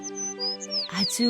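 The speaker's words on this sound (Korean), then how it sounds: "아침이 되자 백설공주는 새들의 지저귀는 소리에 잠을 깼어요." Bright, high bird chirps and whistled tweets sound over a soft sustained musical background, close and clear.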